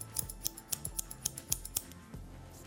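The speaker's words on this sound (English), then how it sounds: "Point cut into this." Scissors point-cut into a lifted section of hair during a haircut, making a steady run of crisp, close snips. About ten quiet clicks come in an even rhythm, then stop.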